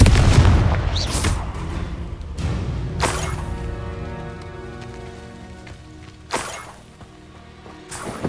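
Confringo fire spell blasts in Hogwarts Legacy: several sharp booming bursts with crackling tails, loud and close, spaced a second or more apart, over a faint ringing game backdrop.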